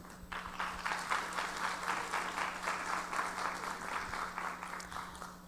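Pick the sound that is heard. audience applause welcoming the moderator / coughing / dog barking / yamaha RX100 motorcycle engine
audience applause welcoming the moderator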